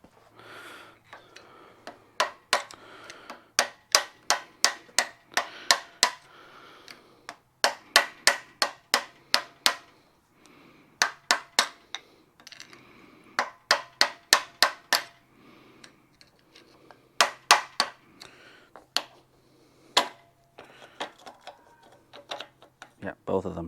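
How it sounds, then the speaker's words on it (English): A hammer taps a screwdriver to pinch down a fork tube on a 1972 Honda CT90 K4 motorcycle, sharp metallic strikes in quick bursts of several blows separated by short pauses, close and crisp. "So we'll get our hammer and our screwdriver."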